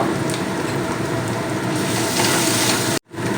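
Spices sizzle in a pan with hilsa fish, seasoned with turmeric and salt. The frying is loud and steady at close range, with faint stirring, and cuts off abruptly just before the end.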